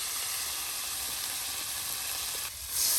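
Sizzling tempering poured into cooked dal in a rural Bangladeshi kitchen, a steady loud hiss of hot oil that surges brighter near the end as the spices hit.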